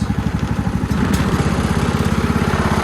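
Ride-on lawn mower engine running steadily up close, its pulsing mid-range throb rising a little as it is revved, a continuous loud chugging with no talk.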